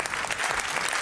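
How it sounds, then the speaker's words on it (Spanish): Audience applause in a Spanish television studio for Isabel, a woman who has spoken about justice and victims: dense, steady clapping from a crowd, loud and close, filling the whole moment with no voices over it. "Yo voy a pedir un aplauso para Isabel"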